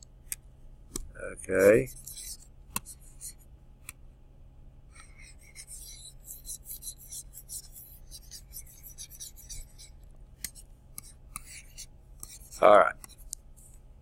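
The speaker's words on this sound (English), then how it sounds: "let me erase my mess here." Faint rubbing and scratching from erasing writing on a board runs through most of the stretch, quiet and close, with a few short spoken words breaking in at the start and end.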